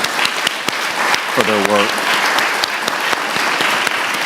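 Audience at a community summit breaks into applause, loud dense clapping with crisp individual claps standing out, and a person speaks briefly over the start of it.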